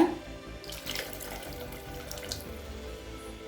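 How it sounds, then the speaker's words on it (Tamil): A cup of water poured into a pan of tamarind fish curry, a steady gushing water sound lasting a few seconds, close and continuous, with no voices over it. "இது கூடவே 1 கப் தண்ணி சேர்த்துக்கலாங்க"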